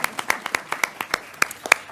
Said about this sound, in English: let's give Mr. Garrett a round of applause